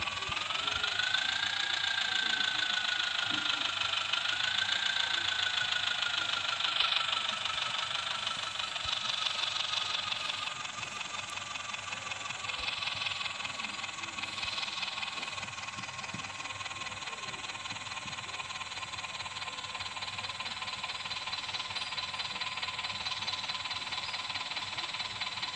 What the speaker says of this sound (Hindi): दोस्तों आप देख पा रहे होंगे यहाँ पर बहुत ही शानदार तरीके से ट्रैक्टर चलता है।